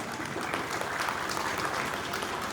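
An audience at a public talk about caste in Punjab breaks into sustained, fairly loud clapping, a dense even patter lasting a couple of seconds with no speech over it.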